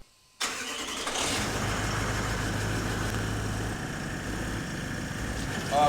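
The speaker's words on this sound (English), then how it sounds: "So I'll fire the truck up and we will start to fill this little sucker up." A Toyota Land Cruiser truck engine cranks and catches after a brief silence, then settles into a steady, fairly loud idle that continues alone for several seconds, with a small shift near the end.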